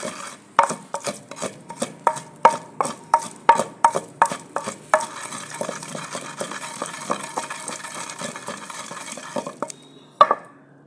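Green coriander chutney ingredients pounded with a pestle in a village kitchen: a steady series of sharp, close knocks at a regular rhythm, then looser grinding and scraping strokes, with no talk.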